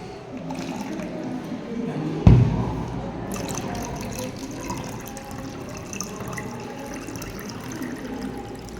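Water running into a tank with a soft, steady trickle and gurgle, joined by a single sharp knock early on, moderately quiet throughout.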